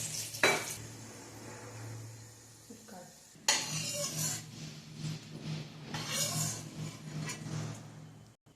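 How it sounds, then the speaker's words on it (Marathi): Garlic frying in hot oil in a pan for crispy bhadang, a soft crackle under clinks and stirring of a spoon against the pot, with a louder burst of sizzling partway through. "लसूण पण छान तळून घ्यायचं आहे."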